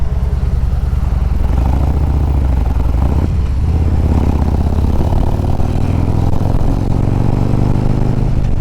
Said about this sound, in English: I like the sound of the engine now